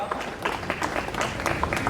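A brief, moderately quiet round of applause fills a hall at the Jamaat-e-Islami Minority Day Conference in Karachi during a bouquet presentation, scattered hand claps blending into a short patter with a voice faintly present.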